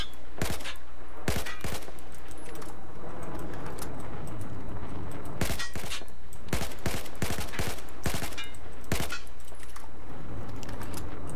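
Tap-fired rifle shots in Battlefield 4, loud, sharp single cracks and short clusters at an uneven pace over a steady game background, without speech.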